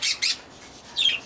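Budgies in a breeding aviary give sharp, close chirps: two quick squawks followed after a pause by a third, with no talking.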